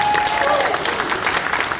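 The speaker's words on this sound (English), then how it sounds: "Let's a little applause for Sammy Terry." Applause at the Horror Host Hall of Fame 2018 event honoring horror host Sammy Terry, a brief burst of steady crowd clapping with some voices mixed in.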